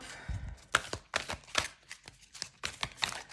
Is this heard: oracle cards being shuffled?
yes